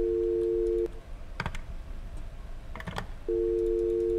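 A telephone rings in a night-shift horror video game, a steady electronic tone that stops briefly while a few clicks and taps sound, then resumes, close and alone without talk.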